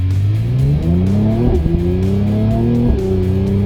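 A Mercedes C43 AMG launches hard and accelerates with a loud, close engine roar climbing steadily through two quick gear shifts, each marked by a brief dip before the pitch rises again, with no voices.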